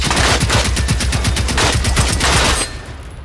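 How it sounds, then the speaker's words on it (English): Rapid automatic gunfire from the video game Generation Zero hammers out a dense, loud burst of rounds for over two seconds, then cuts off, leaving a quieter tail. "See, there we go, his gun just popped off. So let's give him a chance to open fire on his face."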